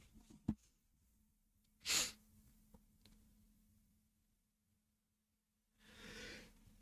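A single sharp sneeze bursts out in a quiet room during a card game reaction livestream, preceded by a small click and followed by faint breathing and a soft rustle.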